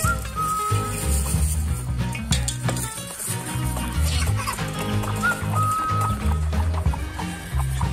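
A mother hen and her chicks cluck on a Thai farm, soft intermittent clucks and peeps over a busy, noisy background with a few short high calls standing out.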